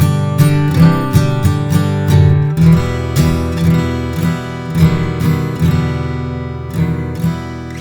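Jumbo acoustic guitar, a Gibson J-200, Guild F-55 or Taylor 618, played in a room with strummed chords and picked notes, ringing close and full for several bars with no voice over it.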